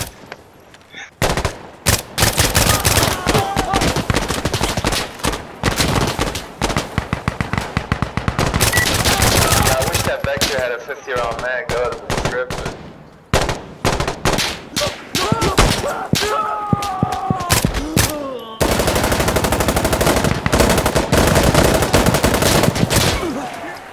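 Insurgency: Sandstorm gunfire crackles close and loud in long automatic bursts and rapid single shots, broken by brief pauses, with faint shouted voices woven into the din.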